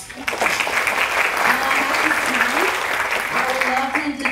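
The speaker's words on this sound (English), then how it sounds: "Give yourself a round of applause." A steady round of applause from an audience at the final performance of a voice ensemble, dense and loud throughout, with some voices calling out over the clapping.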